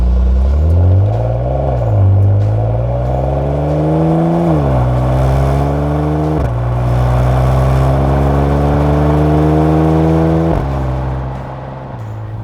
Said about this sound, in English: I think this Porsche sounds better.